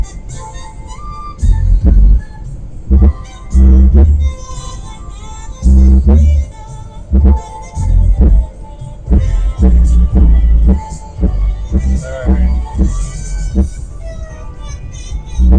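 Heavy, thumping bass music pounds in uneven bursts, loud and close, with a booming low-end throb like a car stereo turned up.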